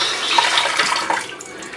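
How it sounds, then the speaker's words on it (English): Tap water runs steadily into a sink to soak a makeup cleansing cloud, a close continuous splashing hiss that eases slightly toward the end. "I'll go ahead and soak it in water."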